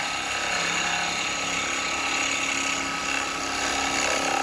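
Gouge cutting a natural-edge cherry almond wood bowl on a lathe, a steady dense whirring hiss of the spinning blank under continuous cutting, loud and close, with no talk.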